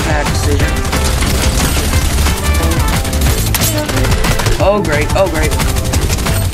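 Combat SMG gunfire in Fortnite rattles in rapid, loud automatic bursts that run nearly the whole time, with a short gap mid-way, while a voice briefly speaks over it.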